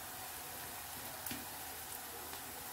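Chilies and curry leaves are sautéing in hot oil for a homestyle prawn masala curry, giving a faint, steady sizzle with a few small pops.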